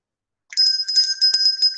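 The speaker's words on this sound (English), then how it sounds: "ring the bell." A bright electronic bell rings continuously with sustained ringing tones and rapid repeated strikes, loud and close, sounding on its own after a brief silence.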